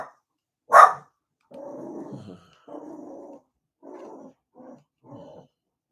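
A dog gives one sharp bark followed by a series of low, rumbling growls in short bursts, close and clear with no other sounds.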